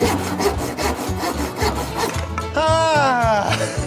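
A hand saw cuts through wood during table building, with a steady run of rhythmic push-pull strokes up close, followed by a brief high squealing whine near the end.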